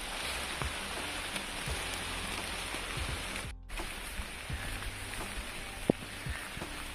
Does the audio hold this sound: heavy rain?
yes